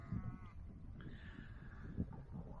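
Distant sheep bleat faintly outdoors at a high car park in Pembrokeshire, a couple of wavering calls over steady wind noise and low rumble.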